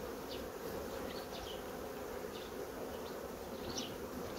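Honey bees from a very small spring colony hive hum in a steady, faint, continuous buzz, with occasional individual bees passing close by; no voices.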